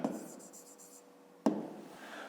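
Pen writing by hand on paper during a fifth-grade math exercise, a few short scratchy strokes heard close up, with a brief tap partway through and quiet room sound between.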